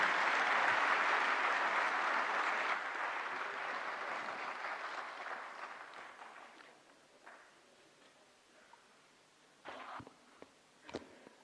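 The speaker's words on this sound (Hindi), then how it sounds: "जोरदार तालियों से स्वागत करें" An audience at an official launch event applauds to welcome the Home and Cooperation Minister, with loud sustained clapping that gradually fades, followed by a few scattered late claps and footsteps near the end.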